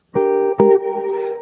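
A guitar plays a brief jazz turnaround with a flat five substitution, two plucked chords ringing out clearly and close, the second sustaining into a decay.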